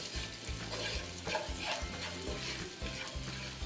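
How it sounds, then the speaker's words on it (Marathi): Red cabbage with ginger sizzling and frying in a pan while being stirred, a steady close sizzle under low rhythmic background tones, no talking. "आता एक मिनटासाठी मी हे परतवून घेतलेलं आहे"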